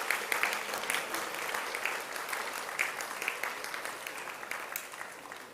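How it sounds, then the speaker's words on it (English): An audience at a summit inauguration gives a round of applause, a fairly soft, even wash of many hands clapping that carries on for several seconds. "Can we have a huge round of applause?"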